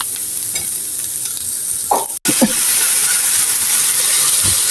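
Carrot and cabbage cook with spices in a hot pan, giving a steady close sizzle and hiss. A brief stirring scrape comes near the middle, then a short dropout, and the frying resumes as strongly as before.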